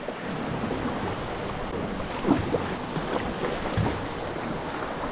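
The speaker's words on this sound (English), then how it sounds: "Just let that little wave come through." A small wave washes past a kayak at high tide in a narrow coastal channel, a soft continuous wash of water with a couple of brief surges, heard close over steady wind and surf.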